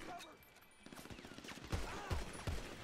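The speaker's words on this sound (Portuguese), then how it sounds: "Os caras não erram tiro não, mano." Rapid gunfire bursts in the video game GTA 5 Zombies crack in quick repeated volleys, growing heavier toward the end, fairly faint overall.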